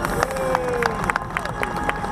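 An outdoor crowd at a ploughing match claps and cheers, a steady wash of applause with scattered sharp claps and raised voices over a passing engine tone.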